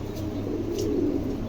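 A pair of jiang homer pigeons, one adult male and a young female, give a low continuous cooing murmur close by, steady and unbroken throughout.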